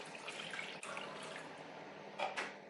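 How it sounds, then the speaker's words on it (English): Water runs and splashes into a cooking pot holding kombu and dried shiitake for a vegan dashi stock, a fairly quiet continuous stream with a couple of brighter splashes near the end. "add the water."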